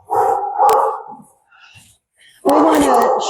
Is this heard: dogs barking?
yes